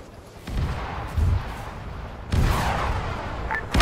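Distant artillery booms and bursts of gunfire from a Vietnam-era Arma 3 battle roll in as several separate heavy blasts, with a sharper crack near the end and no talk.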